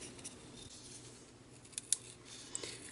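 Scissors snipping paper during a craft layout, a few quick, soft cuts close by against a quiet room background.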